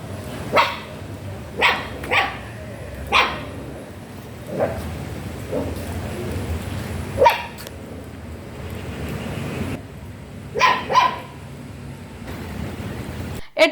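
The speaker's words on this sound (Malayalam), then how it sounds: "ഈ പ്രദേശത്ത് വരുന്നവർക്ക് നേരെ പട്ടികൾ കുരച്ചു ചാടി വരുന്നുണ്ടെങ്കിലും" A group of puppies barks around a village panchayat day-care home in Malampuzha, with sharp yaps coming in short clusters and scattered single barks over quiet outdoor background.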